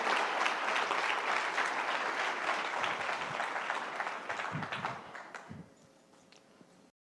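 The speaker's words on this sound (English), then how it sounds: "let's give him another round of applause" An event audience gives a speaker sustained applause, full and even, which thins out over the last seconds to a few scattered claps before ending.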